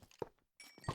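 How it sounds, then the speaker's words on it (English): A mob spawner being broken in Minecraft with the Twilight Forest mod: short, quiet block-hitting thunks and a brief crunching break, isolated and close, separated by a moment of silence. "Another spawner for me to destroy."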